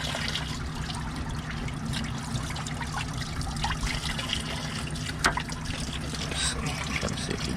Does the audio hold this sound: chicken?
no